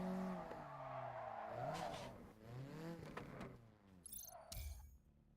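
Cars in a JDM racing video game free race, with engines revving up and down in sweeping pitch changes, a skidding tire squeal near the end, and a short high whine.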